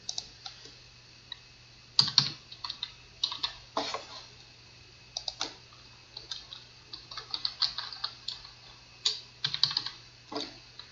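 Someone types a user ID and password on a computer keyboard, with irregular bursts of close, crisp key clicks and short pauses between runs over a faint steady hum.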